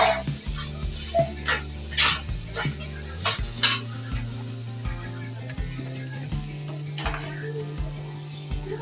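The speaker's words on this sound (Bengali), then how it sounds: "একটু নাড়াচাড়া করে নেব না তো সবজিটি নিচে লেগে যেতে পারে" Mixed vegetables stirred in a cooking pot, a spoon scraping and knocking against the metal in repeated strokes over a soft steady sizzle, close and fairly loud with no talking.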